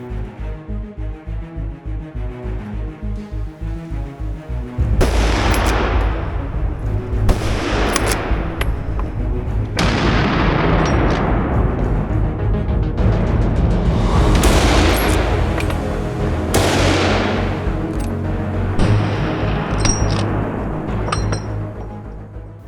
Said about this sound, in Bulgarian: Започна безмилостна стрелба по бързо бягащите силуети на около 100 метра.